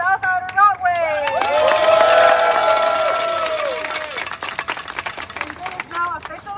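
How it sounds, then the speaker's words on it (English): A crowd gathered outdoors for the opening of a bridge pedestrian path breaks into cheering, whoops and scattered clapping, with several voices shouting and talking over the applause as it swells and then thins out. "I want a big round of applause for the South Outer Roadway."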